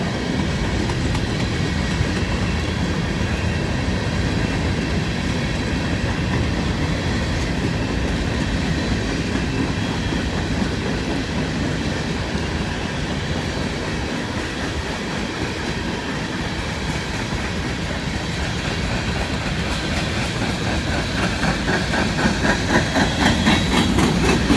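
A long freight train rolls steadily past close by, its tank cars carrying hydroxide solution and chlorine, with continuous rumbling and rhythmic clickety-clack of wheels over rail joints, a constant loud roar with a diesel engine's drone underneath.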